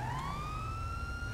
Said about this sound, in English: Put your sirens on.